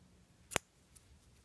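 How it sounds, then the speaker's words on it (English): A single quick snip of scissors cutting crochet yarn, close and crisp against a near-silent background. "cut your yarn."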